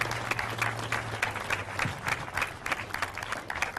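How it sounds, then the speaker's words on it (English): An audience at a mayor's media briefing claps steadily for police officers and firefighters, a dense, sustained round of applause with a low hum beneath it. "can we give another round of applause to our brave police officers and firefighters"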